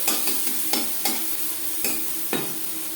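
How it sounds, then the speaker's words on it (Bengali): Onions sizzle steadily in a hot pan while a spatula scrapes and stirs in a series of quick, sharp strokes, close and fairly loud. "পেঁয়াজ আমি লালচে করে ভেজে নেব"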